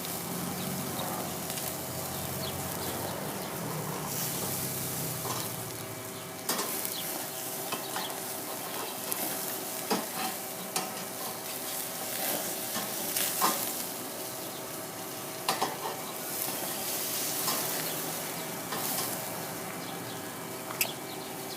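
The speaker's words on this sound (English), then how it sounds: "Nice sizzle there." Burgers sizzling on a Cook Air grill on Turbo 3, a steady hiss of frying with occasional pops and crackles, close and continuous with no voices.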